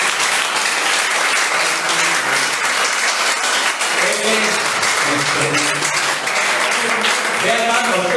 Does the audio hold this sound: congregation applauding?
yes